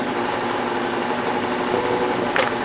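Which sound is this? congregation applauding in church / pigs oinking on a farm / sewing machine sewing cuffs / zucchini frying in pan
sewing machine sewing cuffs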